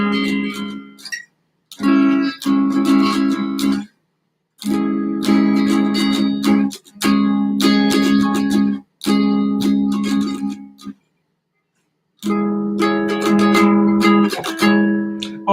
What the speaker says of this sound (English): Now the inside chords, it sounds something like this right here.